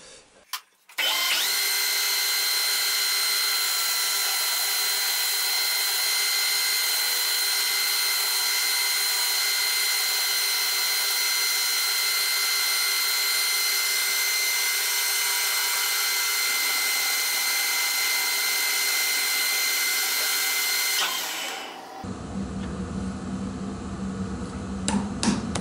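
A handheld power tool runs continuously for about twenty seconds with a steady high whine, grinding a weld bevel into a piece of scrap metal, then stops.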